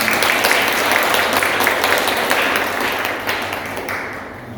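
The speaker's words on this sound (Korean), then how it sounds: "박수 환영하겠습니다" Church congregation applauding to welcome a newcomer during a Sunday worship service; steady, dense clapping fills the room throughout and slowly tapers toward the end.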